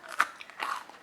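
Two crisp, crunchy bites into an eggless rava biscuit close to the ear, a sharp crack followed by a second crunchy snap, quiet and with no talking.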